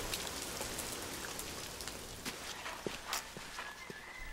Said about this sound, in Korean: 엄마가 올 때가 됐는데도 그치지 않는 비.